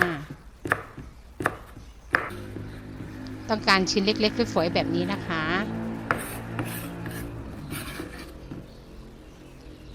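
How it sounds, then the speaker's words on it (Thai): A knife chops grated carrot strands into short pieces on a cutting board, giving quick, close, rapid taps and rasping strokes while someone speaks over them. "แครอท ที่เรา ขูดเป็นเส้นเมื่อสักครู่นี้ เอามาซอยสับ ๆ แบบนี้นะคะ"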